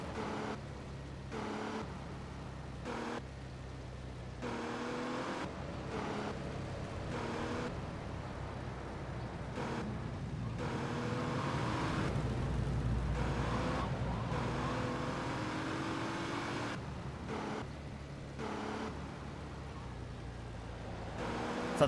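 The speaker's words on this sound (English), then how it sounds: "Sounds like the engine's stalling like crazy." Car engine in GTA: Vice City Stories sputtering and cutting in and out as if stalling, with repeated abrupt dropouts and surges in a choppy, irregular rhythm, fairly steady and close throughout.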